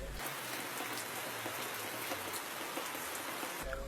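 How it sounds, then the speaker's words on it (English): Heavy rain pours steadily onto a thatch roof over a classroom, a dense, even roar of close drumming with no voices, ending abruptly. "the thatch roof only strains the heavy downpour that confines the pupils to a section of the classroom"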